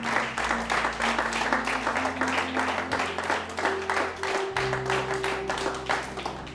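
Church congregation applauding steadily and loudly, a dense wash of clapping hands that continues without pause throughout, with a low sustained tone underneath.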